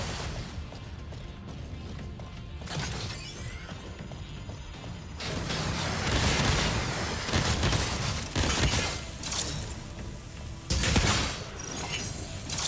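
Loud, heavy railgun blasts in the video game Exoprimal crash in repeated bursts, each followed by mechanical clanks and rumbling over a dense background.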